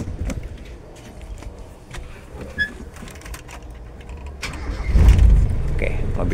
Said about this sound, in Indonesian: Kita coba nyalakan lagi ya.